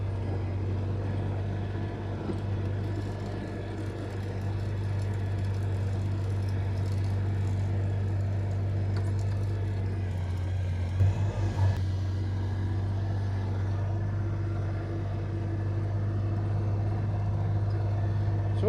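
A snow plow truck idles and rumbles steadily while clearing a driveway near a deck ramp, its low engine drone constant throughout with a brief clunk of scraping near the middle.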